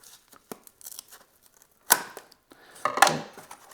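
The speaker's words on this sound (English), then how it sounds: "Just hand tear it out" Material for a homemade CNC dust boot is torn apart by hand in a few quick, rough rips with a sharp tearing burst and crinkling, close up and alone.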